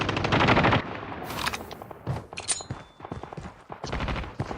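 Rapid bursts of automatic gunfire in Call of Duty Mobile, loud volleys of clustered shots followed by scattered single cracks and short rattles.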